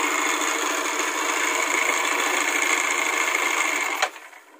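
A bored-up Nmax scooter engine runs steadily with a harsh, buzzing rattle, loud and close, then briefly drops in level near the end.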